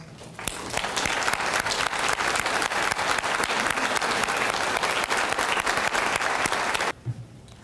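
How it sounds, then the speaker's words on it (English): A large audience applauds veterans at a Veterans Day ceremony, a dense, loud, sustained wash of clapping lasting several seconds before cutting off abruptly into near silence. "let's give them another round of applause"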